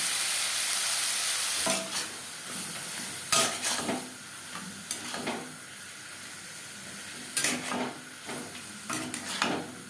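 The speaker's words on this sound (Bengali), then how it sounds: "খুব বেশি ভাজার প্রয়োজন নেই যেহেতু আমি মোমোর জন্য কুর তৈরি করছি" Momo filling of ginger-garlic paste and green chili paste sizzles softly in a pan while a spatula scrapes and stirs it in several distinct bursts against the metal.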